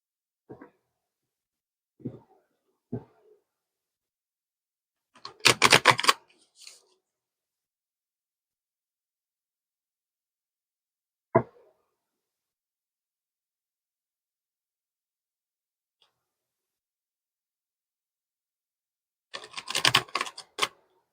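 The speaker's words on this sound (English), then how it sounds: "So I'm going to start by shuffling cards." Tarot cards are shuffled in a few short, crisp riffling bursts, close by, with soft taps and long silent pauses in between.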